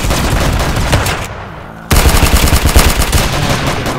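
Rapid automatic Colt gunfire in the Roblox shooter Arsenal, loud bursts of close shots with a brief silent gap around the middle before dense firing resumes.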